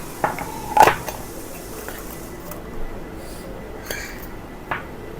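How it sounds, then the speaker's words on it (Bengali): Boiled potato being mixed by hand with cornflour, salt, chili flakes and black pepper in a bowl: a few scattered clinks against the bowl and soft, wet squishing, close and sparse, with a faint voice. "সব কিছু দিয়ে একসঙ্গে করে মেখে নিচ্ছি"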